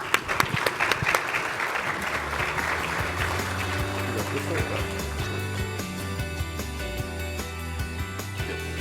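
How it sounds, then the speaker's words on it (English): Audience applause at a launch event after a panel: dense crowd clapping loud at first, then thinning into scattered claps under a low musical hum and steady background. "Let's give our panel another round of applause."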